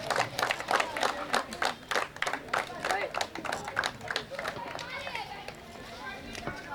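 An audience at a cricket tournament award ceremony claps in bursts of sharp, fairly close applause, which thins out and gives way to a voice and crowd murmur toward the end.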